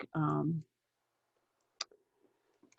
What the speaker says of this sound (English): And I'm going to just click